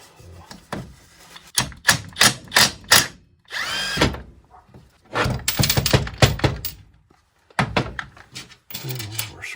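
A power driver spins bolts out of a Stihl MS170 chainsaw, with several short whirring bursts separated by pauses and clunks of parts being handled, close and loud.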